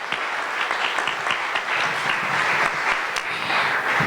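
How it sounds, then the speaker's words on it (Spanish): Audience applause at a public dialogue forum in the State of Mexico, a steady wash of many clapping hands filling the room without pause, moderately loud. "Un aplauso, por favor."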